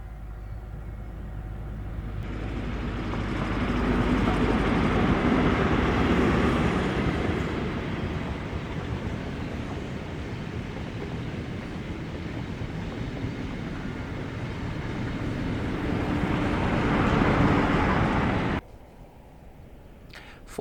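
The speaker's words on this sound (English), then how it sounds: "see these power cars in back-to-back formation hauling the ScotRail set" Diesel power cars in back-to-back formation, with 47712 Lady Diana Spencer on the rear, haul the ScotRail set with Mark IIF DBSO 9707 out of Foley Park Tunnel on the Severn Valley Railway, a loud, sustained engine rumble that swells and then cuts off abruptly near the end.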